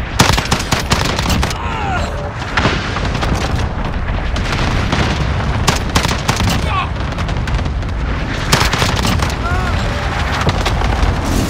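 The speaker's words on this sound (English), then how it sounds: "Allied cluster strike inbound." Cluster strike bombardment in Call of Duty Modern Warfare: a dense, continuous barrage of loud blasts and rapid gunfire-like cracks throughout, with brief game voice callouts mixed in.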